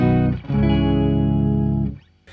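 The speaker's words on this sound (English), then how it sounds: "Which gives you an octave down or even an octave higher if you wish." A loud guitar note through a POG octave pedal rings out thick and doubled with a lower octave tone, briefly broken by a pick scrape, then a short noisy strum at the end.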